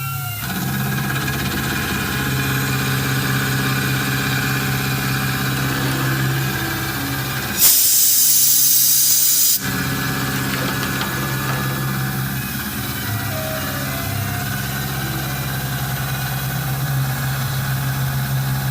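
A Tormach PCNC 1100 CNC mill cuts an AR-15 gas block at about 1000 RPM, a steady whining hum with a brief loud burst of hissing noise midway.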